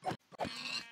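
A Minecraft pig gives two or three short, close grunts in quick succession within a second, clear and alone with no talking.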